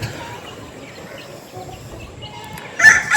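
Turkeys on a poultry farm give a brief, loud, raspy call near the end over a steady hum of farmyard background noise.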